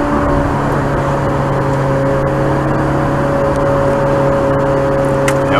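A Ferrari 430 Scuderia engine drones at a steady, loud pitch with strong sustained harmonics, a continuous even hum with no clear rev swings, heard from on board.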